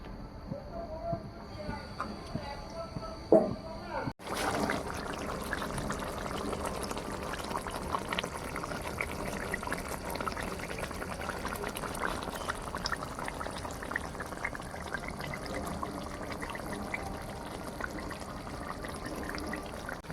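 Green chillies tossed into a pan where tilapia fish is cooking for a spicy curry with bitter gourd, giving a steady bubbling sizzle that runs on without a break after a sharp drop at the start.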